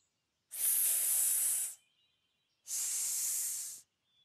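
A voice imitates the letter S with two long, sustained hissing 'sss' sounds, close and clear, separated by a short silence.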